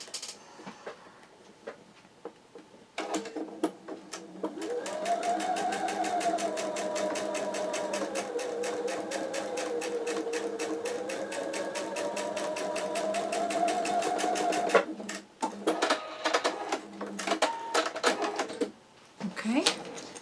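A sewing machine stitches quilt block pieces together for a ripple effect quilt block, whirring steadily for about twelve seconds before stopping, while a person talks before and after the run.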